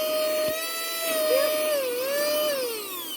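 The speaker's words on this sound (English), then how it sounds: "it's just a little car vacuum cleaner" A small handheld car vacuum cleaner with a charger runs steadily inside an Isuzu Rodeo camper van, a close high whine that wavers slightly in pitch throughout, with no talking over it.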